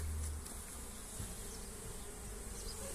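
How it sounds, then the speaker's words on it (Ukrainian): Honey bees flying around an apiary during rapeseed bloom, a steady close buzzing drone of many insects with a low hum underneath, continuous for the whole stretch with no voices. "Я сьогодні знов на пасіці. Бджілки літають."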